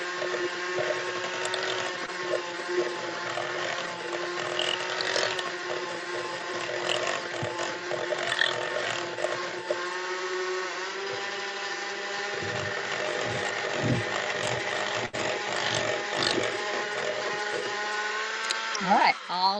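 An electric kitchen mixer whirs steadily through muffin batter, a sustained motor hum with faint rattles from the bowl, quiet and continuous with brief voice fragments near the end.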